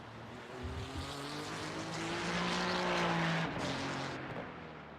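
GT3 race cars lap the Imola circuit in a racing video game, engines droning steadily and swelling louder as they pass, with faint tire noise and no talk.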